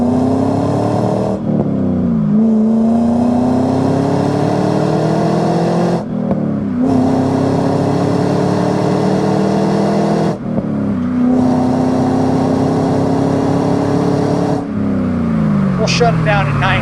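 A 2000 Chevrolet Camaro SS with an LS1 V8 and six-speed gearbox revs hard through several gears, the exhaust rising in pitch with each pull and dropping briefly between shifts, loud and close.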